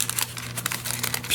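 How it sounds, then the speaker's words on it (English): A glassine or sandwich bag being altered for a journal is peeled and crinkled close up, giving rapid, bright crackling bursts in quick succession. "I'm going to peel off"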